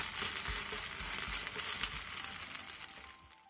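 A spicy Korean jeon pancake pan-frying in oil gives a steady, quiet crackling sizzle with brief spattering pops, fading slightly toward the end, with no talking.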